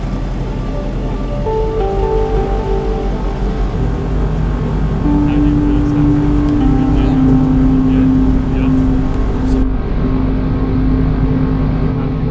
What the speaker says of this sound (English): So we'll just motor up and charge the batteries as much as we can.